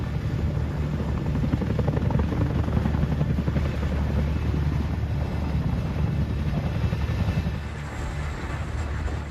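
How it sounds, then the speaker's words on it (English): A heavy, steady rotor drone with a deep rhythmic thumping, constant and fairly loud throughout, with wind-like rumble and no talking. "operators can maneuver the helicopter smoothly in demanding scenarios"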